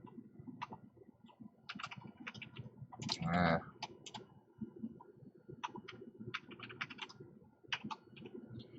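Computer keyboard keys are typed while entering settings for an Arduino UNO analog input, giving scattered close, crisp clicks in uneven bursts, with a denser flurry about a third of the way in and no talking.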